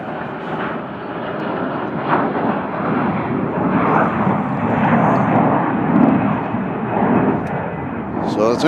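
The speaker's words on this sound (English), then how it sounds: "So it's Amazon Air coming in from Miami." An Amazon Air jet arriving from Miami at Cincinnati/Northern Kentucky International Airport: a loud, steady broad engine roar that swells gradually and holds, with faint radio chatter beneath it.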